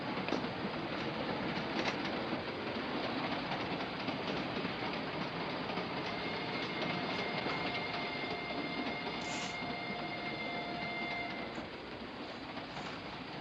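A moving passenger train in a 1930s Sherlock Holmes film rumbles steadily with a continuous clickety-clack of wheels on rails and faint thin squeals, heard alone without voices.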